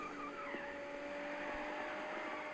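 Bugatti Chiron drifting in the mobile racing game Need for Speed No Limits, a continuous engine drone with a steady tonal whine and tire skid noise running throughout without pause.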